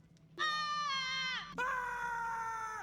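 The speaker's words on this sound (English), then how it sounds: "Sometimes I just scream." A person in a movement game screams twice in long, harmonic-rich sustained cries, the second following a brief break, loud and close with no other talk.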